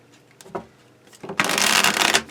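A deck of tarot cards is shuffled up close: a few soft card taps, then a dense, continuous riffling burst of cards flicking together for about a second.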